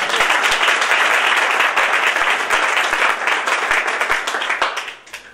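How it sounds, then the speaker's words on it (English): An audience at a Heads' Forum event gives a round of applause: loud, dense, sustained clapping from many hands that carries on steadily before fading out near the end. "Would you give them another round of applause?"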